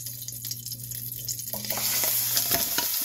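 Beef and sausage sear in olive oil in a pan, a loud, close, steady sizzle that swells as the meat settles, with some stirring scrapes on top.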